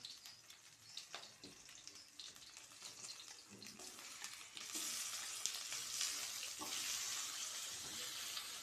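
Tomatoes sautéing in a pan for pork sinigang: a faint, steady sizzle with scattered clinks and stirring scrapes, growing louder and denser partway through as the frying intensifies.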